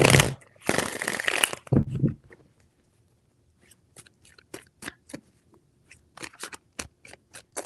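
A tarot deck is riffled in a loud, dense rushing burst up close, followed by a scatter of soft, sharp card clicks and taps at irregular intervals.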